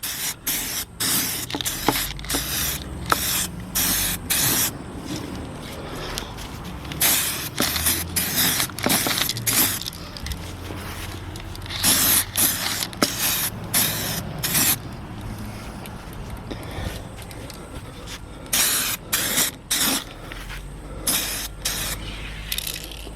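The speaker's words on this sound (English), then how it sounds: "let's give this a bit of a spray." Aerosol spray paint hisses in repeated short bursts onto Racingforg wheels for a Toyota AE86, loud and close, with brief pauses between passes.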